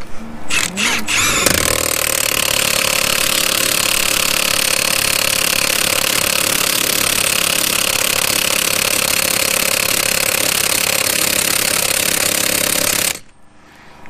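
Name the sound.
air compressor running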